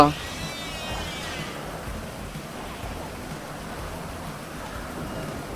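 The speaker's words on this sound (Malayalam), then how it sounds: "ഓ എന്തുട്ട മഴ" Steady rain in the video game GTA V hisses throughout, a dense even wash of drops with no pauses, filling the whole scene at moderate level.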